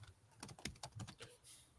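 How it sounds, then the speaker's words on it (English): Someone types on a computer keyboard, a quick irregular run of about a dozen soft clicks and key taps, faint and close, with no talking. "You're probably hearing me typing right now."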